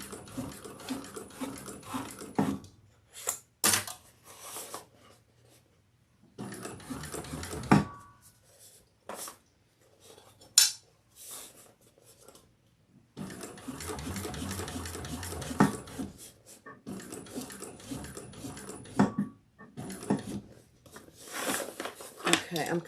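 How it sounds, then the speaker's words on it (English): A sewing machine back stitches through the Ellana bag in several short, close bursts of rapid stitching, separated by brief quiet pauses. "I'm just back stitching."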